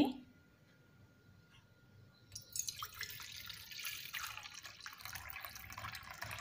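Water trickles and splashes as 150 ml is poured in while making agar pudding, starting quietly after a brief sound and building into a steady close pour for several seconds.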